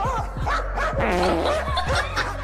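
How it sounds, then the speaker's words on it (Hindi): A dog barks repeatedly at a monkey standing outside, a close, loud run of sharp barks and yelping whines with no pauses. "इस वीडियो में ये कुत्ता बाहर खड़े बंदर पे भौंक रहा था"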